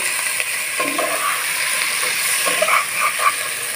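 Boiled small local potatoes being stirred into a pan of fried rice for an aloo muri ghonto, with a steady sizzle beneath soft scraping of a spoon against the pan, close and fairly loud throughout.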